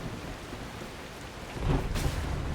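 Steady heavy rain in the video game The Last Caretaker, with a low rumble of thunder swelling midway, the downpour continuing loud and close throughout.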